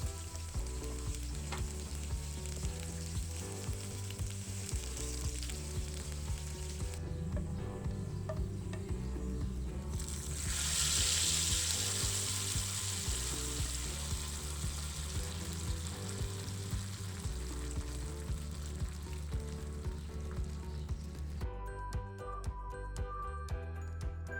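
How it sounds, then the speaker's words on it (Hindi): Cumin, onion, curry leaves and three small dried red chillies fry in hot oil, sizzling and crackling steadily with occasional stirring, quiet and close, swelling briefly in the middle. "हम कड़ी पत्ता और 3 छोटी जो है वो लाल मिर्चें भी इसमें शामिल कर लेंगे और अच्छी तरह से इनको फ्राई कर लेंगे"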